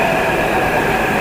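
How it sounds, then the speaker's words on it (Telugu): Hyderabad Metro train arriving at a station, a loud steady rumble and rail whine filling the space without pause. "చూడొచ్చు, మనైతే మెట్రో వస్తుంది."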